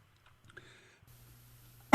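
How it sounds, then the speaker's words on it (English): A single sharp cough bursts out near the end after a quiet stretch with faint background hum, close to the microphone. "I had to cough right in the middle of that"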